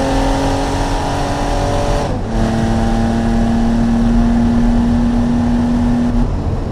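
Race car engine in the Automation game, a sustained loud drone climbing in pitch, dropping briefly at a gear change, then rising again steadily as it pulls down the straight toward top gear.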